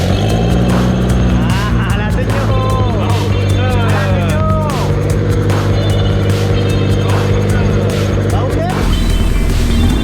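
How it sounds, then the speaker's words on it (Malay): A rebuilt Proton Wira 4G61T turbo engine idling on its first start, a loud steady rumble with rhythmic revving and whining tones, while someone talks over it. "Dan ini adalah first start selepas kita turun enjin"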